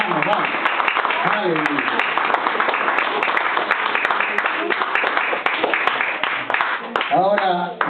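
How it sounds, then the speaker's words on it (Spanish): A church congregation applauds loudly, dense clapping under shouting and voices that carries on steadily. "Denle un aplauso fuerte a Jesús"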